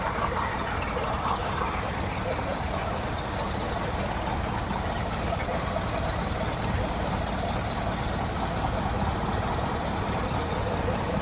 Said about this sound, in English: old Caterpillar there, isn't it, eh? Four-cylinder.